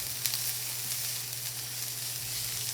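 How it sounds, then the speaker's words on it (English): Peppers added to a hot pan for a meatloaf mixture, after the garlic, sizzling as a steady, even hiss, with a low hum running underneath throughout. "then let's add those peppers"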